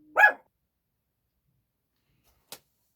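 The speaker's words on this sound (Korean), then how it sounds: "강아지가 짖어가지고" A dog gives a single loud, sharp bark near the start, followed by near silence and a faint brief click later on.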